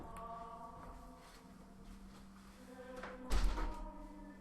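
An interior door is shut in a quiet room, one soft thud near the end after a stretch of faint background hum.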